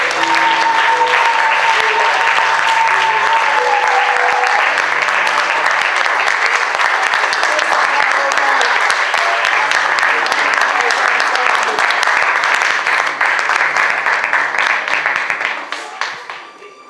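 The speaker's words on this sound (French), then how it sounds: "donnez les acclamations." Church congregation applauding and cheering during a service, a dense, loud, sustained roar of clapping and voices that holds for over fifteen seconds before fading out, with a voice calling over it at first.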